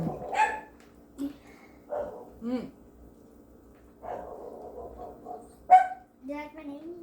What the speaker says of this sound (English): Someone's here, so all the dogs are barking.